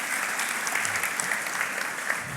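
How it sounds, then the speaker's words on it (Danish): An audience at a Danish music talk gives steady, dense applause for a person standing up to introduce themselves. The clapping is close and full, without cheering. "vi klapper lige af alle, der rejser sig op"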